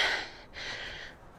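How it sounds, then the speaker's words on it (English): Heavy, gasping breaths from someone mid-workout doing lunges, two long forceful exhales close to the mic, the second after a brief pause, with no talk. "Are you guys breathing as hard as I am?"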